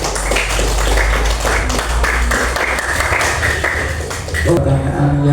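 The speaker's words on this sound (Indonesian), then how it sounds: "Tepuk tangan untuk kelompok 3." A classroom group claps for a student team in a dense, sustained burst that fades just before the end, with voices mixed in.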